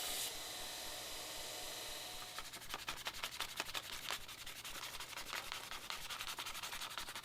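Knife handle scales are sanded at the front edge to round it, producing steady abrasive rubbing. A continuous smooth hiss gives way to rapid rhythmic back-and-forth strokes, close and moderately loud, over a low hum. No talking.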